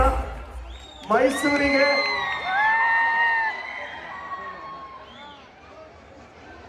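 Crowd at a Mysore event for Dolly Dhananjay's entry, cheering and whooping with shrill whistles over a brief shout from a voice on the mic, then the noise fading to a lower murmur.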